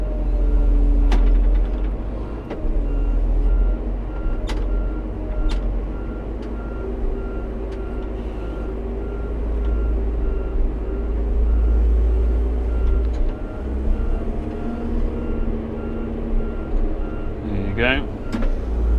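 A road grader's engine rumbles loud and steady as the machine gets into first gear while grading tracks and troughs, a heavy low drone with shifting tones and a brief mechanical whine near the end.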